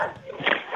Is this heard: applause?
no